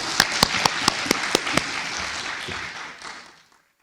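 Scattered applause from an audience at a public water-quality and consumer-trust forum, a few sharp distinct claps followed by a dense wash of clapping that fades out after about three seconds.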